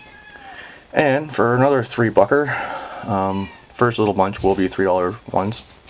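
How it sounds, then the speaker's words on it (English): A cat whines from behind a closed door, faint and intermittent in the background while someone talks steadily over it. "sorry if you hear my cat whining in the background"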